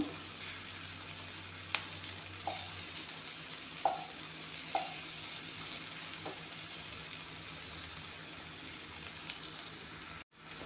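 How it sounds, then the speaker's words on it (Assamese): Okra fries in a pan with a steady, soft sizzle throughout, broken by a few light taps and scrapes of a stirring utensil against the pan, heard close with no talking. "এয়া চাওক ভেন্দিখিনি ধুনীয়াকৈ ভজা গৈছে।"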